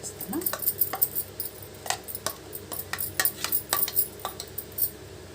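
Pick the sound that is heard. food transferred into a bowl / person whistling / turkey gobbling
food transferred into a bowl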